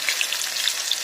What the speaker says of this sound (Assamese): এই তিতা কেৰেলাখিনি আমি ভাজিব লাগিব।